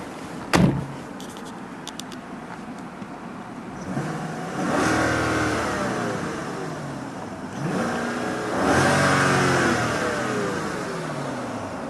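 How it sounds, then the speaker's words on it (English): A 2012 Hyundai Genesis with the 4.6L V8 is revved twice in free rev, each rev a rising engine sweep held for a few seconds before falling back. A sharp door thump comes first, and the sound is close and loud with no talking. "There's a very nice sound to this car."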